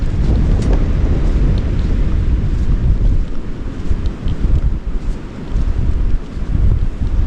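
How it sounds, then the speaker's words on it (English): Strong wind at Tecolote Beach in Baja California buffets the microphone in loud, continuous low rumbling gusts that swell and ease, with no voices. "A lot of people had told us that Tecolote Beach is windy."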